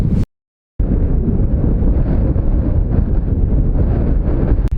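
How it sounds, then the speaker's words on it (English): Strong wind on a mountainside in the Faroe Islands buffets the microphone in a loud, continuous roar, broken only by a short silent gap near the start. "It's extremely windy"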